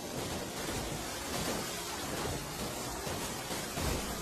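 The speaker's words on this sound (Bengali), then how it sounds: "দেখেছো বাবা, কত জোরে বৃষ্টি হচ্ছে?" Heavy rain pours in a cartoon storm as a dense, steady roar close by, with faint rumbles rising and falling beneath it.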